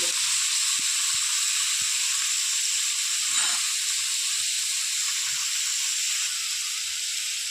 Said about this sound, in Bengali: সবজিটা আমি একটু হালকা করে ভেজে নেব